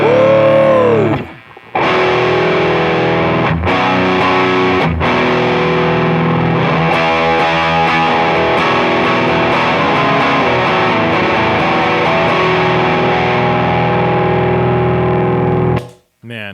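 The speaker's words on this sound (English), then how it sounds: "That's distortion." Electric guitar played through a Barber Electronics Gain Changer distortion pedal, a loud, continuous crunchy distorted tone with sustained chords and brief pauses near the start and end.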